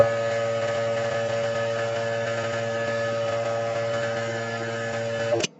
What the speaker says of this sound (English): I'm going to have the pump on first